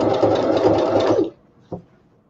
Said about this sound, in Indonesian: sekarang kita nak jahit bahagian garisan kuning.